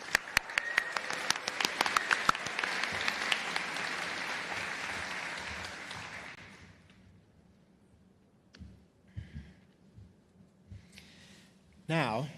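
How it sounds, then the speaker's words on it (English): A commencement audience breaks into a burst of applause that starts loud with sharp claps and fades out over several seconds, followed by quiet room sounds and scattered small noises. "Let's have another round of applause for these phenomenal students and their amazing work."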